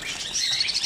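Zebra finches in an Egyptian bird shop, chirping in a steady flurry of high, close tweets that carry on without pause for the whole moment, with no talk over them.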